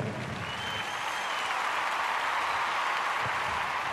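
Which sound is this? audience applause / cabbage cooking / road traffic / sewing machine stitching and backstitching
audience applause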